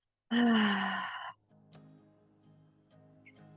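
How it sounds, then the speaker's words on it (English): A single strong exhale pushed out through the mouth during yoga breathing, a loud breathy rush lasting about a second, followed by quiet room tone. "Take a big inhale through the nose. And an exhale out the mouth."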